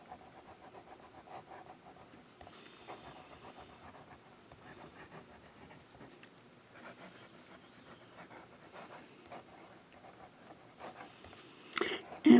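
Medium-nib orange fountain pen writing small S shapes on paper, a soft close scratching that runs faintly throughout, with a louder knock at the end.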